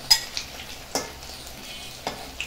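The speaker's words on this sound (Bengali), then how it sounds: "প্রত্যেকটা রুটি আমি ভেজে নেবো।" Bread slices frying in a mix of ghee and oil in a pan, a soft steady sizzle with a few sharp clinks and scrapes from a utensil turning them.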